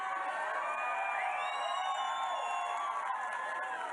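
A large crowd at a Las Vegas political rally cheers and shouts in a sustained, dense roar, whoops and calls rising over the steady din.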